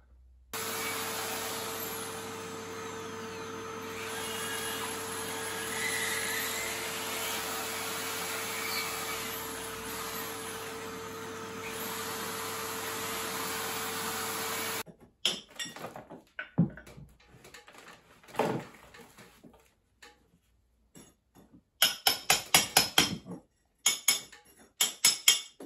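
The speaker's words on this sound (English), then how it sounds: "get the hammer drill out and drill out all that mortar" A hammer drill runs for about fifteen seconds with a steady, loud motor drone while drilling out mortar between bricks. Scattered knocks, clinks and short bursts of handling noise follow.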